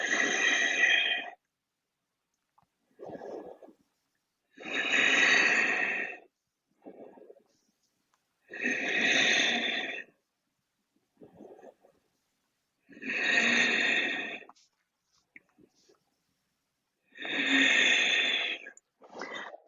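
Slow, deep yoga breaths held in a forward fold: long, airy inhales and exhales alternate in a steady rhythm with silent gaps between them, close and fairly loud, with no talk.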